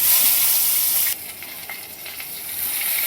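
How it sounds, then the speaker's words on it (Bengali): Prawn wrapped in bottle gourd leaf hitting hot mustard oil, a loud broad sizzle that drops suddenly partway through, then settles into a steadier, quieter frying hiss with faint pops. "এবার তেলের মধ্যে পাতার ভেতর মোড়া মাছটা ভেজে নেব।"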